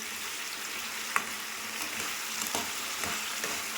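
Potatoes, onion and kohlrabi fry in a home-kitchen pan with a bay leaf tempering, giving a steady close sizzle broken by a few sharp stirring scrapes and clicks, with no talking.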